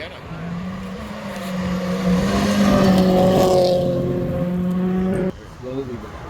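A Subaru WRX rally car engine roars nearby in the woods, its pitch climbing as it speeds past, then cuts off abruptly; a voice is heard faintly underneath.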